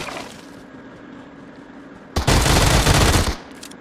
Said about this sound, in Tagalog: Uzi itong baril ko.